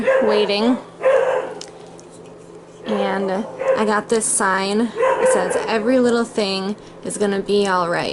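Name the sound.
dogs barking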